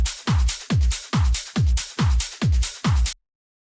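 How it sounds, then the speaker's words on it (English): An electronic dance drum loop for a Free Your Mind remix by Prospa and Cloonee, with steady punchy kicks, claps and hi-hats repeating evenly at a brisk tempo, loud and alone, then stopping abruptly. "And then together we've got the drums that sound like this."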